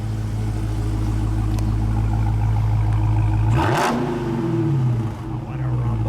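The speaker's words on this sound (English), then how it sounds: "Let me get one exhaust note, Tom" A 2016 Dodge Charger SRT Hellcat's supercharged 707 hp V8 idles with a deep, steady rumble, then revs sharply once near the middle before settling back to idle; loud and close.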